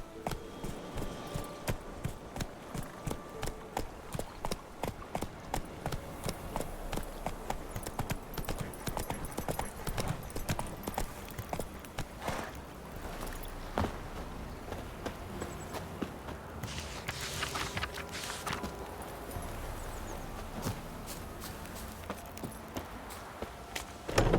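Roach, the horse in the video game The Witcher 3, trotting with a steady, rhythmic clip-clop of hooves on hard ground that runs close and clear, lightly thinning near the end, with brief game ambience behind it.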